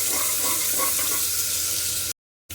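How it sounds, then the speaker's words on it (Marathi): Onion hits hot oil in a pressure cooker with a loud, close, steady sizzle that cuts out abruptly near the end, then briefly resumes. "कुकरमध्ये दोन चमचे तेल घातले चिकनसाठी तेल गरम झाले कांदा घालते"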